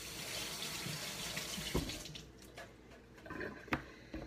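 Running tap water pours steadily into a sink while a small knob of fresh ginger is rinsed under it, with a couple of soft knocks and a brief shift in the flow near the end.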